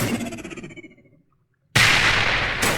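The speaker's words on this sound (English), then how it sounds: "what if I throw a grenade down there?" Grenade blast in the sci-fi shooter Mass Effect 1: a rumbling, decaying tail falls to near silence, then a sudden loud, dense burst of noise lasts to the end, briefly cut and renewed, with no talking.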